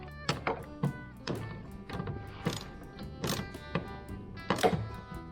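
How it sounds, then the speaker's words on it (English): A series of sharp mechanical thunks from a pedal in a classic Bedford truck, about eight of them at an uneven pace, close by with no talking. "We've got a loud pedal."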